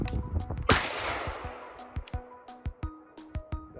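A single loud rifle shot fired at a 50-yard target cracks sharply and rings out in a long decaying tail, followed by a run of lighter, evenly spaced clicks and taps.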